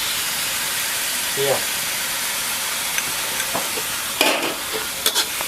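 Water spinach stir-fried with pork belly and fermented soybeans in a pan, a steady close sizzle and hiss with a few scraping stir strokes and clinks breaking through near the end.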